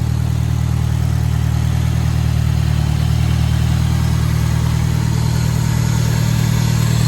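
A Fiat 124 Spider with a Honda K-series engine swap idles steadily on its first start, a loud continuous low hum with a constant throb and no revving or talk.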